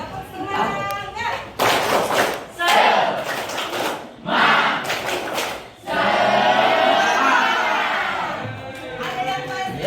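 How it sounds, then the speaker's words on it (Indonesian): A classroom group performs the 'tepuk semangat' spirit clapping routine, with bursts of loud rhythmic claps and stamps alternating with a crowd chanting and shouting together. "Tepuk semangat."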